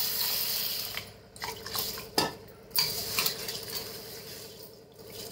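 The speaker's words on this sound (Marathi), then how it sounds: "आता हे 2-3 पाण्याने स्वच्छ धुवून घेते" Green moong beans are rinsed in water inside a metal vessel in a home kitchen: sloshing water, gritty swirling and occasional clinks against the pot, rising and falling in short bursts with no talking.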